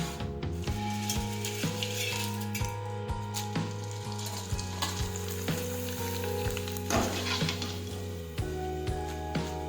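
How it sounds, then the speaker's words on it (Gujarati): Potato wafers fry in hot oil with a steady, dense sizzle and bubbling throughout, close and fairly loud, with a few light clinks of a utensil against the pan. "હવે આપણે તેમાં વેફર તળી લઈશું"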